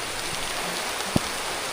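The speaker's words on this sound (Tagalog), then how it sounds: "Sarap ng ulan." Steady rain hisses down on bitter gourd plants in an outdoor garden, a continuous wash of drops with one sharper nearby splat near the end and no talking.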